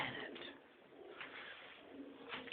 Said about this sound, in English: I have a bird in my house. It's a pigeon.